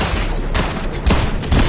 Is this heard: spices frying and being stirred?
no